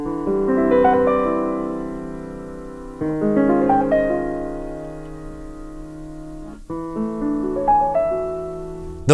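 Piano chord voicings from a song: three unhurried phrases of lush sustained chords, each struck and left to ring, played alone with no talking.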